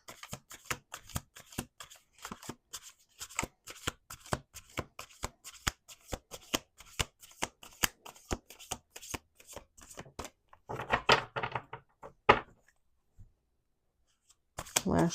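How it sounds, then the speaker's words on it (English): Tarot cards are shuffled in a long run of quick, crisp riffling flutters and taps, close and fairly quiet. Short gaps separate the bursts, and a denser shuffle comes near the end. "We're going to do 2 more shuffles."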